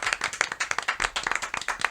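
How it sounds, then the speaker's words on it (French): An audience claps for a guest on a night-time show. The applause is brisk and fairly close, with many overlapping claps in quick rhythm for about two seconds. "On peut l'applaudir."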